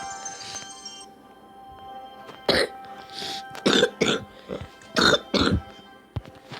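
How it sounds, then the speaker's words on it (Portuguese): A young man with a cough coughs and clears his throat several times in short, loud bursts, near the microphone, separated by quiet stretches with faint background tones. "Eu tô meio com tosse. Então desculpa se eu tiver tossindo."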